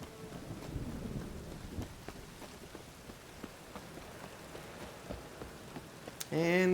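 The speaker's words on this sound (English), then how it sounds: "A storm, damn it." Steady rain and a stormy rumble fill a Witcher 3 game scene, a faint, even hiss with soft low swells throughout, ending with a brief louder sound at the close.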